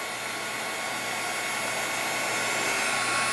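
A heat tool blows hot air to dry a bleached embossed stamped image on a handmade card, a steady close whooshing fan roar that holds constant from start to finish.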